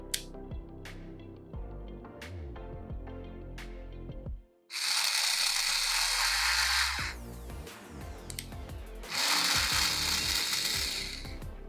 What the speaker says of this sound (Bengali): তো আপনারা দেখতেই পাচ্ছেন এটা কিন্তু অনায়াসে স্ক্রু লাগাতে এবং খুলতে পারছে